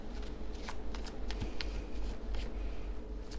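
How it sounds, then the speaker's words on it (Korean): A deck of tarot cards being shuffled by hand close up, a steady continuous papery riffling and rustling with small crisp snaps throughout and no talk. "조금만 더 섞을게요"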